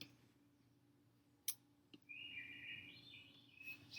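An alarm clock plays recorded bird chirping: a faint, quiet run of high tweeting trills after a couple of soft clicks, heard alone in a still room.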